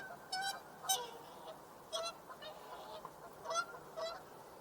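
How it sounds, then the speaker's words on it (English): Geese honk in loud, repeated bursts of several calls, some near and some farther off, over faint outdoor background noise with no talking. "The geese are going crazy."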